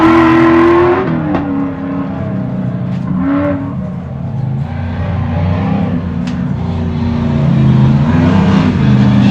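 Comp Truck race trucks at the High Desert 100 off-road race in Powell, Wyoming speed past with loud revving engines that rise and fall as they pass close by.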